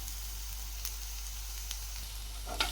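Beetroot and onion fry in a pan with salt, making a gentle, continuous sizzle over a low hum, broken by a couple of faint ticks and a brief stirring scrape at the end.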